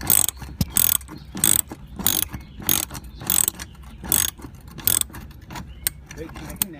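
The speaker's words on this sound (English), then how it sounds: "Now using your socket and ratchet, you're just going to go ahead and remove each of these individual screws." A socket and ratchet remove screws during a Mercedes C-Class fog light installation, giving repeated loud close clicking bursts in an uneven rhythm, each a quick ratcheting rattle separated by short quiet gaps.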